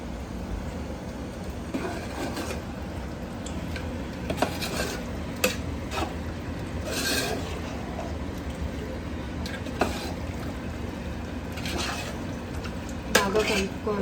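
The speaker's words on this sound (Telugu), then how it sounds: "ఈ గ్రేవీ అంతా పీసెస్కి పట్టేలా బాగా ఒక్కసారి బాగా కలిపేసుకుంటే" A spoon stirs chicken biryani gravy through the chicken pieces in a metal pot, with repeated clinks and scrapes against the pot over a low sizzle, close and fairly loud.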